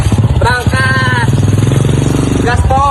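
Motorcycle engine revving hard and loud up close, a steady droning roar building as it accelerates at full throttle, with a rider's voice calling out briefly over the engine near the start and end.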